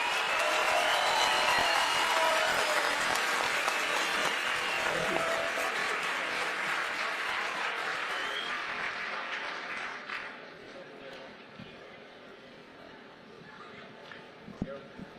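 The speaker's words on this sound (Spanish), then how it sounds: "recibamos a todos nuestros invitados con un gran aplauso" Audience applause at a punk history talk during the Bogotá book fair, a loud sustained wash of clapping that gradually fades away, leaving a quieter room with a few scattered claps near the end.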